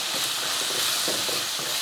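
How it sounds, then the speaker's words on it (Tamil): Tomatoes sautéing with salt and spices in a pan give a steady soft sizzle, with a few light stirring scrapes rising over the hiss. "அடுத்து கொஞ்சம் உப்பு போட்டு இதை நல்லா வதக்கி விடுவோம்."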